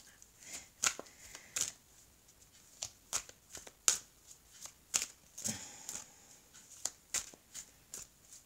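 Tarot cards are shuffled and drawn in repeated crisp riffles and slaps, close and fairly quiet, arriving in irregular bursts with short gaps between them.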